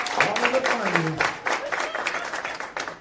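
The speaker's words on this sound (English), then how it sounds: "Big round of applause" A crowd applauds a comedian being introduced at a press event, a steady clatter of many hands with a voice talking over it near the start.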